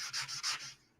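Quick back-and-forth rasping strokes of a sanding block on aluminum, about five close rubs, then the scraping fades out.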